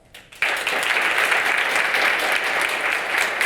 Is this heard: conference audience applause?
yes